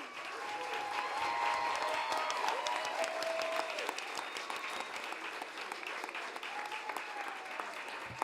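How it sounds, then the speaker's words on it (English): Sustained applause from a seated audience at a poetry recitation competition finals, dense steady clapping filling the room for the whole stretch without letting up. "please join me in the last round of applause for our participants"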